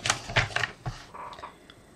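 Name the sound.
cutting a sheet of acetate to size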